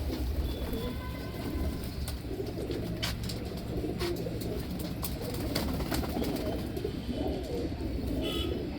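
Pigeons coo softly and repeatedly in the background amid a low ambient rumble, with scattered sharp clicks and flutters.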